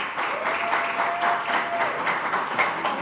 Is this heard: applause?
yes